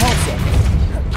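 Depulso spell cast in the video game Hogwarts Legacy, a short loud booming burst that fades within about a second, with a voice speaking briefly over it.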